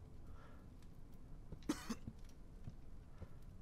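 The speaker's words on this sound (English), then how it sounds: "why the hell are you coughing?" A character in a dark horror video game coughs once, a short, harsh burst that rises out of a quiet, low background rumble.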